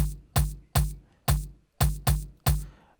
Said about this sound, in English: So you just need one percussion which sounds like a tom